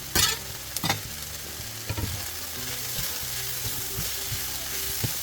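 Onions and garlic fry in a pan with a continuous close sizzle, broken by several sharp scraping stirs of a utensil against the pan, the first few louder, others softer.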